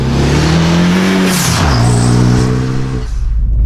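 A Renault Megane 225 F1 engine revs and climbs through gears, loud and close, with rising pitch sweeps as it accelerates steadily.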